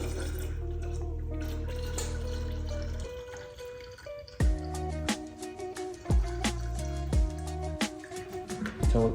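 Windshield washer fluid poured from a jug into the reservoir of a Jeep Wrangler JL, a steady glugging pour that gives way to irregular splashes and sloshing gulps, close up.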